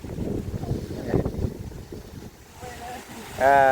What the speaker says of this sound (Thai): ลมพัดมาบาดนี้